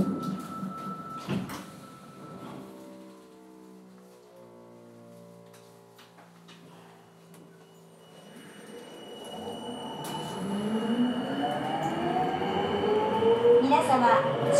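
A Sapporo Municipal Subway Namboku Line 5000 series train stands with doors and chimes, then pulls away, its motor whine rising in pitch as it accelerates with increasing rumble.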